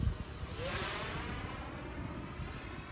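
3D-printed Viggen V2 RC jet with a 64 mm electric ducted fan flying low, a faint steady whine with a brief rising whoosh as it passes, distant and fairly quiet throughout.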